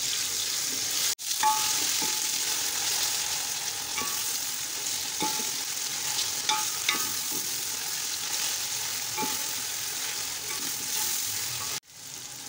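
Ginger, garlic and red chili powder sizzle steadily in hot oil with tomatoes for an aloo matar pulao, a continuous close frying hiss with occasional stirring clicks and no voices.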